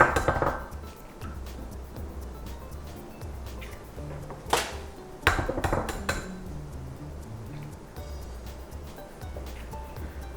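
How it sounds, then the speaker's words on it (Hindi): Two eggs whisked in a bowl for a mutton keema dish, a steady run of fork-on-bowl clinks and scrapes with a few louder knocks midway, close and alone. "अंडों को इस तरह से फेंट लेते हैं"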